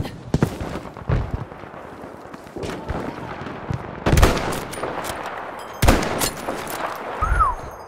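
Gunfire in Battlefield 5 on PS4 Pro, in an urban sniper match: several loud, sharp shots at irregular intervals over a steady battlefield din, with distant crackling shots between them.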